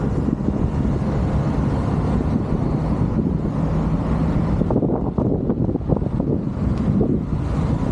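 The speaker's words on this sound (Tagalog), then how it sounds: "Bali may hangin na siya, kasi hindi naman nagano mainit sa balat yung hangin" Steady strong wind roars against the microphone, a dense continuous rumble with gusty fluctuations and no speech.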